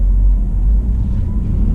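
A MINI Countryman hybrid SUV drives in electric mode, heard from inside as a heavy steady low rumble of road and tire noise, loud and continuous without voices.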